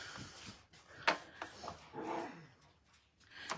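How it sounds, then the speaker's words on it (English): Dogs playing, with scattered short yips, whimpers and soft growls coming in bursts at a moderate distance, fairly quiet with gaps between sounds. "the dogs are starting to play"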